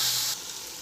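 Sliced onions frying in hot oil for chicken biryani, a steady bright sizzle close up that drops to a quieter hiss partway through.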